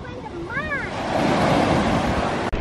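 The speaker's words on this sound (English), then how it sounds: "The ocean is a friend of mine." Ocean waves break on a cold beach in a steady, rushing wash that swells and grows louder toward the end, with wind buffeting the microphone. A high voice cries out briefly near the start.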